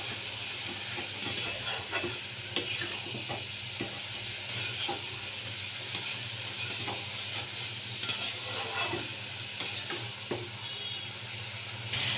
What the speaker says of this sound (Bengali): এবার সবগুলোকে আমি একসাথে কষিয়ে নিচ্ছি।